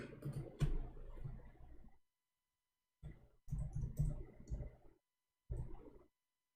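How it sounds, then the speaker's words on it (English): Bursts of typing on a computer keyboard come in several short clusters of rapid key clicks, with silent gaps between them. "I will type it in front of you."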